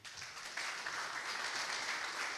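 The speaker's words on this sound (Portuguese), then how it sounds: "Aplauda o Senhor." A church congregation applauding, a steady wash of many hands clapping at a distance, continuous with no talk over it.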